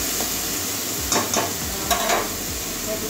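Banana stem stirring and frying in a pan, a continuous bright sizzle with several scraping spatula strokes and soft clatters as the pieces are mixed.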